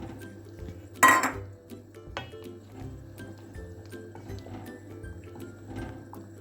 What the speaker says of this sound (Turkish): Terbiyemizi çorbaya ilave ediyorum karıştırıyorum.